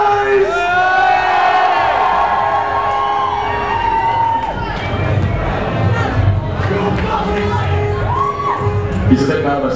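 A crowd at a unicycle show roars with cheers, whoops and shouts that hold loud and steady throughout, with a few excited voices rising above the mass.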